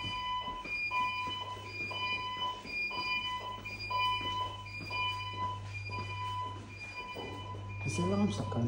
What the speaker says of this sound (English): Is the alarm stop going off on its own?